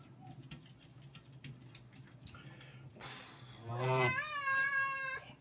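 A cat lets out one long, rising-then-falling meow close by, following a few seconds of quiet shuffling and faint ticks over a low steady hum.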